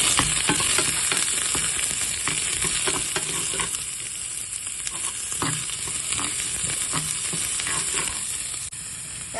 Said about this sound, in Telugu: ఎర్రగడ్డలు ఇట్లా గోల్డెన్ బ్రౌన్ వరకు వేగిన తర్వాత స్టవ్ ఆఫ్ చేసేస్తాము